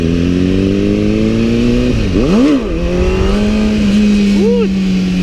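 Motorcycle engine holding a steady drone, then revving sharply up and down twice while the rider attempts first-gear clutch-up wheelies; loud and close, with a voice talking over it.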